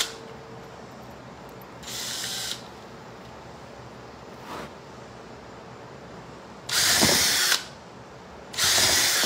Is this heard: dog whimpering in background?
no